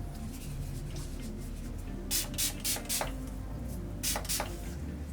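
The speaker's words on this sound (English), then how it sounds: "I'm going to spray my section" A few quick hissing sprays from a spray bottle onto a section of hair in a rapid cluster, close by, over a faint steady background hum.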